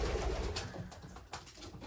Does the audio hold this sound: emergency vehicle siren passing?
no